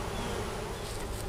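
A honeybee swarm of worker and guard bees hums in a barn, a dense continuous buzz close to the microphone, steady and alone with no voices.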